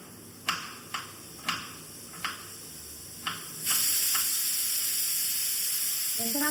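Potatoes cooking on a home stove in a Tamil kitchen give a steady sizzling hiss that swells partway through, with a few sharp ticks and pops before it, close and alone without talk.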